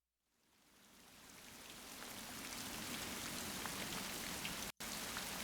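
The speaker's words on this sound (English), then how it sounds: "Oh crap, rain." Steady rain falls in Fire Emblem Three Houses, a dense hissing downpour that fades in over the first two seconds and then holds constant and even, broken by a single instant cutout near the end.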